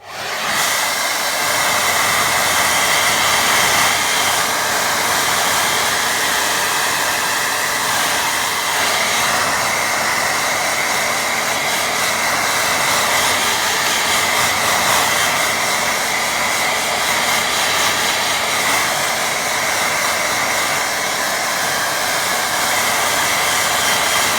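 A hair dryer blows steadily on a small watercolour boat painting, a loud, continuous airy roar that holds unbroken from start to finish with no talking.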